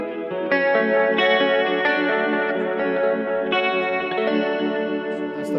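Sustained organ chords swirling through a Leslie rotary speaker on its fast setting, with a rapid warbling shimmer and a few chord changes along the way.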